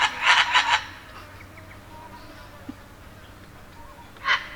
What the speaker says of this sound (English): Birds and flies. Welcome to the outback.